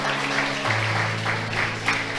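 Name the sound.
applause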